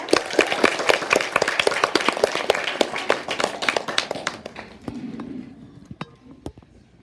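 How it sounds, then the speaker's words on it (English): Parents and students at an elementary school student council speech evening clap for a fourth-grade candidate; a lively burst of claps fades out after about four seconds, leaving a few scattered claps and faint clinks. "So let's give her a round of applause."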